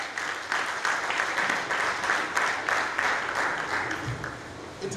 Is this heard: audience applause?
yes